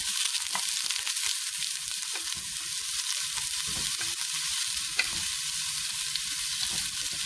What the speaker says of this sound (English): here to saute my onions